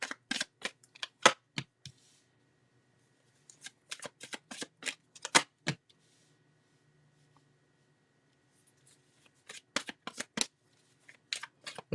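Tarot cards being shuffled make repeated crisp riffling snaps in quick bursts, separated by short pauses, close and fairly quiet, with no voices.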